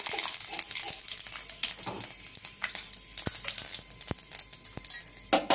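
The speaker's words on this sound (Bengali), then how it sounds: "বন্ধুরা, আমি একবারে 5 ফোড়ন দিয়ে দিলাম।" Panch phoron five-spice tempering sizzles steadily in hot oil for a Bengali hilsa fish-head mixed-vegetable chorchori, a constant bright frying hiss with scattered sharp crackles and pops, no talking.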